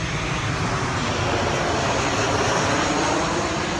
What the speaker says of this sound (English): plane coming